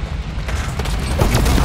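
Gunfire in Halo Infinite during a Big Team Battle match, a loud burst of overlapping shots and booms that grows heavier toward the end, alongside mechanical clatter.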